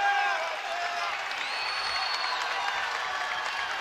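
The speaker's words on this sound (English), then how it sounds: "The crowd gets louder and louder here at the Bob Devaney Sports Center." Arena crowd at a college wrestling meet, Ohio State at Nebraska in the Bob Devaney Sports Center: a sustained, loud roar of cheering, whistles and applause that holds steady throughout, with no clear talk.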